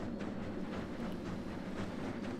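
A train rolls across a player-built bridge in the physics puzzle game Bridge It Plus, giving a steady, dense rumble with faint rhythmic clatter that runs unbroken from start to finish and has no talk over it.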